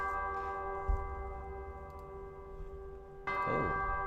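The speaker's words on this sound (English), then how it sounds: "Got the bells going." Bells chime in the Pokemon TCG Pocket game, a sustained ringing tone that holds steady and then swells with a fresh, brighter strike near the end, fairly quiet, with no voices.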